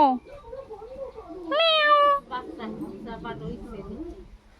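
A cat gives one clear, drawn-out meow outdoors in a garden, with a person talking softly around it.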